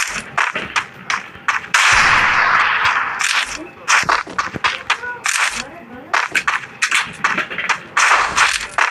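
Rapid bursts of gunfire from the Free Fire mobile game, sharp cracks and quick volleys at irregular intervals, one sustained rattling stretch near the start, with the player talking over the shots.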